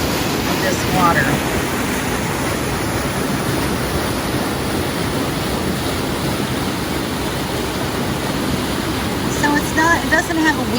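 Water rushes powerfully at Alley Spring mill in Missouri, a constant loud broadband roar holding steady throughout, with faint voices briefly audible at the start and end.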